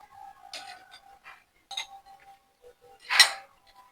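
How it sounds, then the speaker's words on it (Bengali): Fried prawns go into a pan of coconut-milk prawn malai curry, with a few close clinks and scrapes of utensils against pots and one louder metallic clatter near the end, no talk. "এবার তাহলে ভাজা মাছগুলো দিয়ে দেবো।"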